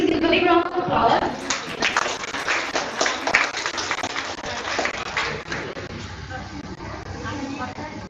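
A seminar audience gives a round of applause for a principal receiving a book on environmental education, a dense patter of clapping that runs throughout, close and fairly loud, with some voices mixed in.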